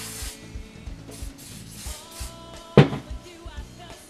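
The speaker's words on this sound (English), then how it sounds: "Spray some Isoplus." Short hissing spritzes of hair product from a spray bottle repeat in quick bursts, close by, with a sharp knock partway through.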